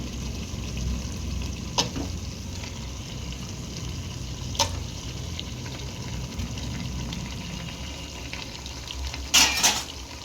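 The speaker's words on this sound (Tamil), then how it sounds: "சிக்கன் போட்டுட்டு நல்லா ஒரு கிளறி விட்டுட்டு மூடி வச்சிட வேண்டிதான் கொஞ்சம் நேரம்" Chicken for white biryani fries in a pot with a constant close sizzle. A few sharp metal clinks and scrapes come from stirring, the loudest near the end, and no one speaks.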